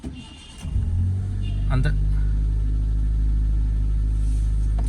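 A Mitsubishi Lancer that has sat unused for about two weeks cranks briefly and fires on the first try, settling into a loud, steady idle rumble close by, with someone talking over it.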